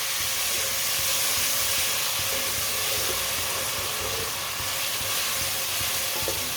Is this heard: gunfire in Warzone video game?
no